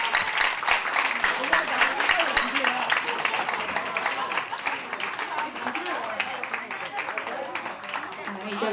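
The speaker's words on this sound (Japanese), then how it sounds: "拍手をお願いします。" Crowd applause at a 2008 Shinjuku Kabukicho combined martial arts and pro wrestling show at Furinkaikan, dense sustained clapping filling the hall throughout, with voices mixed in underneath.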